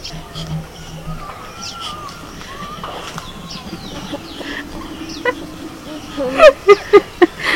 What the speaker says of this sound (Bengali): ছোট্ট ছোট পাখিগুলো এইটুকুন করে ওরা আওয়াজ করছে